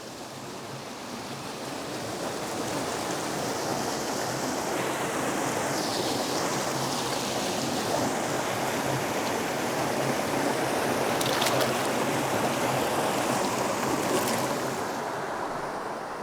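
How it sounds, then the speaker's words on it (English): Small waterfall on an autumn mountain creek, a steady, full rushing of falling water heard close and alone, with a little wind noise. "here we go at the base of this beautiful little waterfall"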